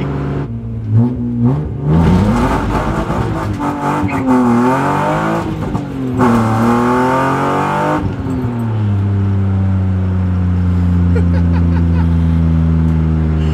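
A BMW E36 engine with an M50 intake manifold revs hard, rising and falling in pitch several times before settling into a loud, steady drone, heard from inside the cabin while driving.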